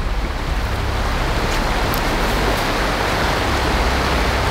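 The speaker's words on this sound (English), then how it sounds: "The river!" A river rushes outdoors in the wild with a loud, constant roar of flowing water that fills the whole scene, steady and close with no voices.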